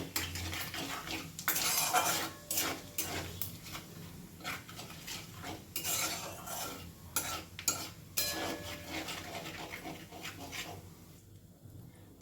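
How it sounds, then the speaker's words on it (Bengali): A spoon scrapes and clinks against a pan as a teaspoon of whole cumin seeds is stirred while tempering in hot oil, with a light sizzle underneath. The strokes are close and irregular, with no talking. "দিয়ে দেব এক চা চামচ পরিমাণ গোটা জিরে ফোড়নটা বেশ কয়েক সেকেন্ড আমি নেড়ে নেব"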